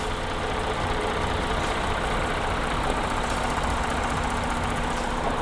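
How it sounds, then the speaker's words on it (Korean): The 45 TDI diesel engine of an Audi Q7 (4M) quattro idles, heard up close as a steady, loud, even rumble with no breaks and no voices. "엔진 소리 일정하네요"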